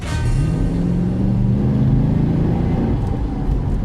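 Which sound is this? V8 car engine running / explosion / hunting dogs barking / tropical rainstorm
V8 car engine running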